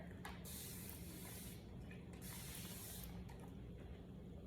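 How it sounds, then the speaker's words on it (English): A fine mister bottle sprays makeup setting spray in a few quick bursts, a close, bright hissing spritz that repeats, with no talking. "I pour them out into my Amazon mister."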